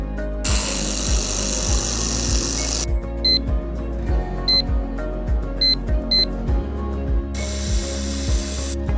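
Air-cooled laser welding machine working on galvanized square steel, heard as a steady mechanical drone with regular ticking pulses throughout, broken by loud broadband hissing bursts at the start and end and a few brief high tones in between.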